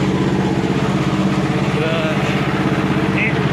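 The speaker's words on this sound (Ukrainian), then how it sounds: "Завели тракторця." A homemade mini tractor's small engine runs steadily at idle, a continuous low chugging rumble that stays close and even throughout.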